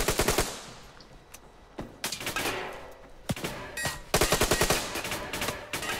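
Rapid bursts of automatic gunfire in the online shooter Survarium, loud and close, firing in repeated volleys with short pauses between them and no talking.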